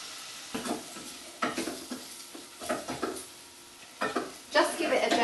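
Browned meat in spices with freshly chopped onion and fresh coriander, frying and sizzling in a pan while being stirred in bursts of scraping and hissing, close and moderately loud.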